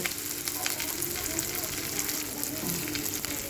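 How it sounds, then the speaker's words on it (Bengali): Thick chunks of potato are stirred and fried in hot oil for a Bengali katla fish curry, with a steady, dense crackling sizzle running throughout at close range, broken by the scrape of stirring. "এখানে আমি আলুগুলো দিয়ে দিচ্ছি দিয়ে তেলের মধ্যে ভালো করে নেড়ে চেড়ে নেব"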